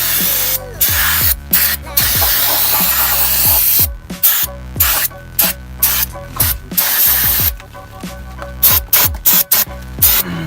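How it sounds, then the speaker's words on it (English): Repeated loud bursts of brake cleaner aerosol spray hiss close by on an Audi A4 front brake caliper, coming in short and long blasts with brief pauses between them. "get some brake cleaner. Just go through and spray all your stuff."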